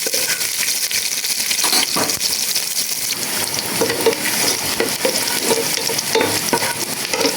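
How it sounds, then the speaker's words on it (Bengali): Chopped onions frying in a pan for vegetable khichuri, a loud continuous sizzle with repeated scraping and stirring strokes and occasional metallic taps, close up with no voices. "দিয়ে দেবো পেঁয়াজ কুচি, ভালো করে"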